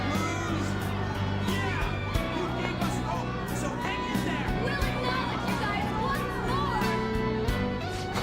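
A crowd of humans cheering in a video game, a dense, steady roar of many voices shouting and chattering, loud and continuous throughout, with music-like tones woven through.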